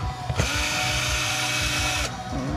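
An electric grinder cuts loudly into a multimeter casing, a steady high whine lasting about two seconds with brief quieter motor noise before and after.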